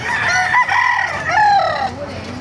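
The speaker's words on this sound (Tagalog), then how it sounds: "May mga manok dito sa Baliwag oh." A rooster crows loudly and close by at a busy chicken market in Baliuag, Bulacan, its long strained call rising and wavering over other fowl and faint background voices.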